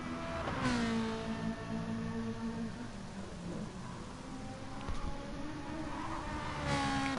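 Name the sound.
Ferrari race car engine in video game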